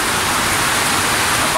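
Heavy rain pours down steadily in a dense, loud, unbroken hiss, falling outdoors over a place where homing pigeons are awaited back from training.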